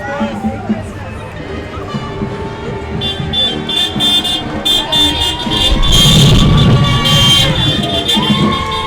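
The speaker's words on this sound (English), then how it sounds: "You hear them honking" Car horns toot from a fleet of vehicles in a Christmas parade in Greer, blaring over a loud crowd, cheering and an announcer's voice, with a denser burst of honking and noise later on.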